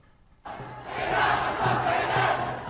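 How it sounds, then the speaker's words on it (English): Protesters face off with riot police in Manila as water cannons blast the crowd: a loud, massed roar of shouting voices swells in suddenly and holds steady, fairly close, with low rumbling underneath. "Protesters faced off with riot police today in Manila, carrying signs reading "Ban Trump" as water cannons blasted the crowd."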